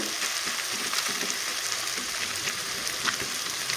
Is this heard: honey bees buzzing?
no